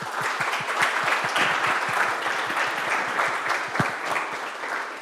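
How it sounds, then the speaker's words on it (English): A workshop audience claps to thank a presenter after a talk on speaker diarization, with steady, fairly close applause and distinct individual claps throughout. "let's clap and thank Fede again"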